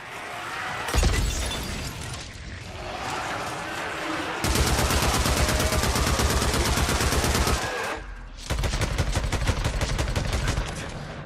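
Rapid gunfire from a weapon in Days Gone, long bursts of sharp repeated shots firing loud and close, broken by short pauses between volleys.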